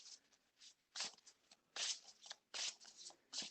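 Tarot cards being shuffled close up in a quiet room, in soft papery bursts of riffling and slapping that come in an irregular rhythm with short pauses between.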